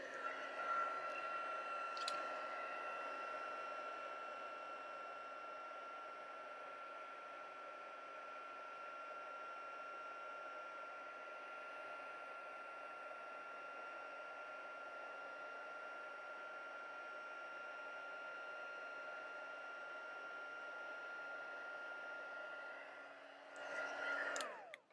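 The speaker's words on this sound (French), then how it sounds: "pour le velin, on laisse chauffer un petit peu notre pistolet chauffant" A heat gun warms up before embossing vellum paper, giving a steady, fairly quiet blowing hum with a faint tonal whine, a brief click near the start and a short swell at the end.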